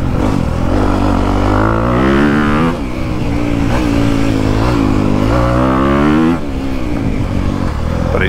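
A motorcycle engine runs loud and close throughout, its pitch rising and falling as the rider revs and shifts, with a brief dip in throttle midway before pulling hard again.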